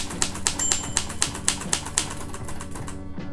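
A Royal typewriter with a magic margin button clacks through a quick, even run of about eight sharp mechanical strikes as the carriage mechanism moves, then a softer final clunk, close and alone.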